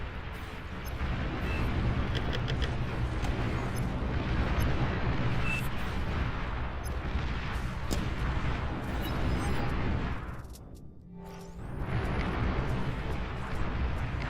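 An enemy commander explodes in the video game Beyond All Reason amid dense, rumbling battle noise with booming blasts and crackling fire, loud and continuous before a brief lull and a return of the roar.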